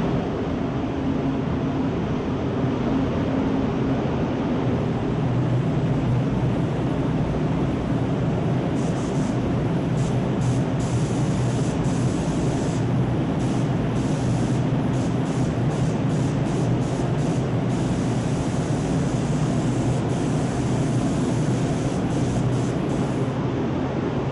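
A small spray gun applying glaze over a piece of applied molding gives a steady, loud, continuous hiss of air and spray that runs unbroken from start to finish.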